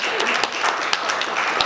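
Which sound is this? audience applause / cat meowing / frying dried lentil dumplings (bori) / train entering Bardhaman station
audience applause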